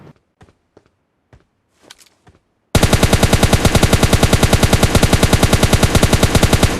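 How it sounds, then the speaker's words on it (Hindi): PUBG Mobile Lite gameplay: a few scattered sharp clicks and single shots, then a sudden sustained burst of rapid automatic gunfire with a fast, even rhythm, loud and close, continuing to the end. "मैंने बस यहाँ पर फायर करके चेक किया कि वहाँ पर बंदा है कि नहीं"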